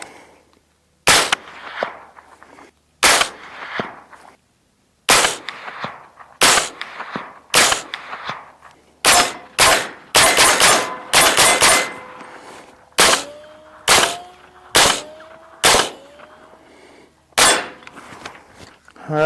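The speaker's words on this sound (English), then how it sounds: "Let's get our dot dialed up, and we'll shoot into the dirt for the first round." Supersonic 300 Blackout rounds fired from a custom 8.2 inch rifle outdoors: a string of loud, sharp gunshots, some spaced apart and others in quick runs, each with a short decaying echo, with occasional talk between them.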